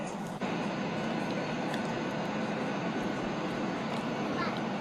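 Inside an airliner cabin in flight, a constant, even engine and air drone fills the whole stretch, with only faint scattered sounds on top and no clear speech.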